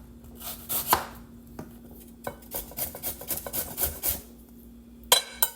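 Garlic and onion being chopped on a board for lumpia filling, with irregular knife strikes, some close and sharp, spread through the clip and a quick burst of rapid chops near the end.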